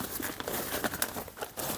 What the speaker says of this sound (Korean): 김장 비닐입니다. 대형 김장 비닐.